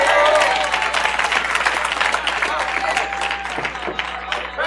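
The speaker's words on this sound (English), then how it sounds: "Would you give the Lord a hand clap of praise?" A church congregation claps its hands in praise during a worship service, a dense, sustained wash of clapping mixed with crowd voices and music, loud throughout.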